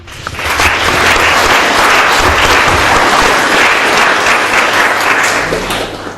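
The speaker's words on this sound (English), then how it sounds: "Let's clap our hands" A church congregation at a worship service claps together in steady, dense applause, loud and sustained for several seconds before tapering off.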